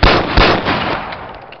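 Gunfire in the BoneLab video game: a couple of sharp, rapid shots fired close by, followed by a decaying, echoing tail.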